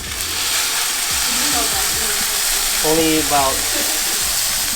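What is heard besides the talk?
bluefin tuna top loin searing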